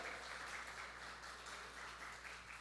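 Congregation applause inside a church, a continuous, fairly faint wash of many people clapping at a steady level, with a low hum underneath.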